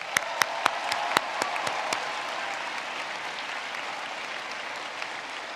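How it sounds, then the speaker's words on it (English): Commencement ceremony crowd gives a round of applause for the organizers, opening with a few loud, close individual claps before settling into a steady, even wash of clapping from the audience. "Please join me in a round of applause for today's organizers"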